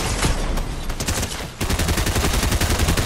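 A dense, rapid stream of gunshots from a Fortnite match, loud and close, with a brief lull before the firing resumes in quick repeated bursts.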